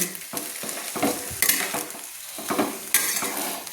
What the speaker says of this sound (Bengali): কোচানো বাঁধাকপিগুলোকে আমি কড়াইতে দিয়ে দিলাম, দিয়ে আমি ভালো করে কিন্তু নেড়ে নিচ্ছি।